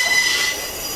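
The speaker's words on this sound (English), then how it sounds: "They notch brakes. That's what they're doing. They're having to stop." Essex steam train braking to a stop, its wheels letting out a loud, sustained high-pitched squeal on the rails that eases slightly as it slows, with no voices.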